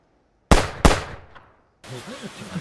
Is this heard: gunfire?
yes